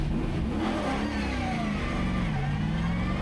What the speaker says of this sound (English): He's out in the Holden Monaro 427C. This was from 2003 with its 7-litre V8 Chevy engine.